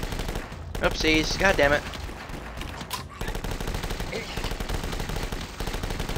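Rapid gunfire from the zombie shooter game The Last Stand 2 rattles in dense bursts across the clip, with someone talking briefly over the shooting near the start.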